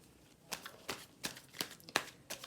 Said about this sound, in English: Please be patient while I shuffle the cards.